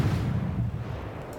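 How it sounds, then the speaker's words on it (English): A torpedo strike explodes in a naval warship video game, a heavy low rumbling boom that swells loud at the start and then rolls on as a sustained dull roar for over a second. "eventually you're going to land one torpedo"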